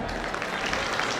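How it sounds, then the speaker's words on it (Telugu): Brief, even applause from an audience at a felicitation ceremony for state folk artists in Nagarkurnool district, a continuous patter of many hands at moderate level. "చప్పట్లు కొట్టండి గట్టిగా"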